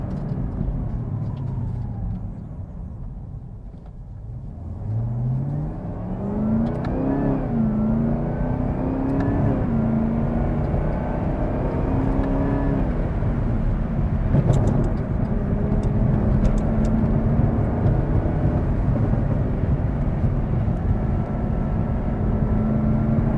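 A 2021 Chevrolet Camaro ZL1 drives and accelerates, its engine note dropping low and then climbing steadily through the revs, a strong continuous drone heard from inside the car with no talking.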